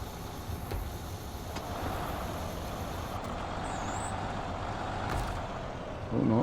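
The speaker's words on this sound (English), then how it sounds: "We'll move the truck up a wee bit for these two" A heavy truck rumbles along in Snowrunner, with a steady low engine drone and a hiss like an air brake partway through, closing on a louder thud near the end.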